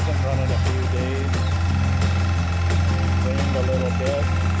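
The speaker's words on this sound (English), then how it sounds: "start up the motorcycle for a little while" A 1988 Suzuki Katana 1100 motorcycle engine idles with a steady, close, loud low rumble and regular pulsing, while a person talks over it.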